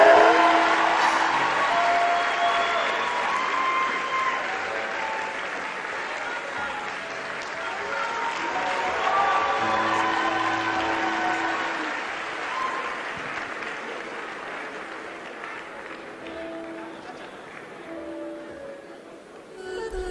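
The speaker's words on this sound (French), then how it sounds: "Merci d'applaudir encore pour ce numéro d'humour" Audience applause following a comedy act by Moustik, Markus and company, a broad sustained wash of clapping from a crowd that holds steady for the whole stretch and fades slightly near the end.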